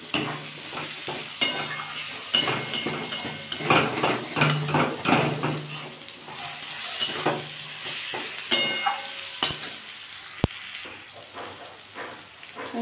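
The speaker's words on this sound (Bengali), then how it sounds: "আমি এবার এর মধ্যে ভেজে রাখা আলুটা একটু দিয়ে কষিয়ে নেব।" Fried potatoes being stirred into a jackfruit curry masala in a pan, with steady sizzling and repeated scraping of a spatula against the metal, close and fairly loud, with no voices.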